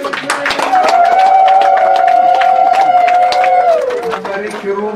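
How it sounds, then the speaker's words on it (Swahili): Crowd at the official opening of St. Titus Kiwalwa vicarage, a church gathering, breaking into sustained high trilling ululation with clapping and cheering filling the room, loud and continuous before easing off. "Makofi na vigelegele."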